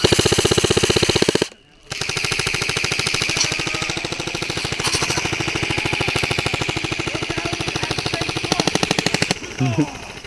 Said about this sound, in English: That's how you empty a mag, ladies and gents.